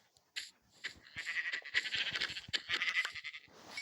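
A series of short bleats from sheep in Minecraft, repeated several times over a few seconds with brief gaps, fairly close and clear.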